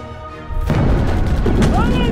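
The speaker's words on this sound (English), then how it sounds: "They are shelling their hotel." Artillery shelling booms in a war film trailer set on a steep mountain face, a low continuous rumble of explosions rising abruptly after a quieter opening and staying loud to the end.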